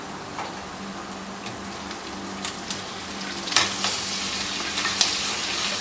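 Mutton pieces hit a pan of browned fried onions for a Kerala-style mutton roast, sizzling steadily with scraping stir strokes and a few louder clatters of the spoon against the pan, close by with no talk.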